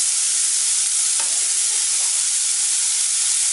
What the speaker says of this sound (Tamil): இப்போ வெங்காயமும் அந்த ரெண்டு வர மிளகாயும் போட்டுக்கிறேன்.